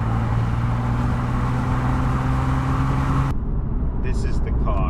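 2014 Nissan 370Z accelerating at full throttle, a loud steady engine roar with tonal drone heard from inside the car, cutting off abruptly near the end.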